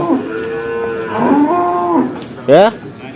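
Buffalo lowing at a busy livestock market in Kollannur, with long drawn-out moos sounding close and loud, ending in a short rising bellow, over faint background chatter.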